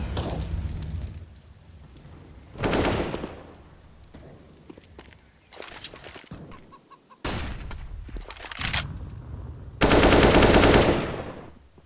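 Gunfire from Counter-Strike: Global Offensive at a Starladder Berlin 2019 esports match: several loud automatic-rifle bursts, separated by quieter gaps, with faint game ambience between them.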